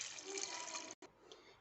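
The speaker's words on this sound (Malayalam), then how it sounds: "ഇതിലേക്ക് ആവശ്യത്തിന് വെള്ളം ഒഴിച്ച് കൊടുക്കുന്നുണ്ട്" Water poured into a pot of chicken for cooking, a steady close splashing stream that cuts off briefly, then a softer trickle continues; faint and short.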